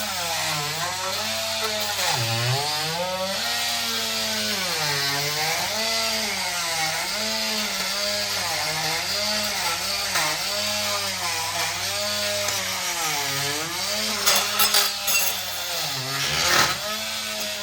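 A battery-powered scraper grinds and scrapes along a steel mower deck, a loud, continuous whine whose pitch dips and rises as the blade meets resistance, with sharper scrapes near the end.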